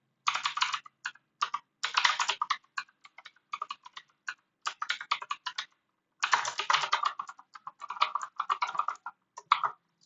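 Bursts of computer keyboard typing, rapid close clicks in clustered runs with short pauses, as code is entered during a programming lesson on operators.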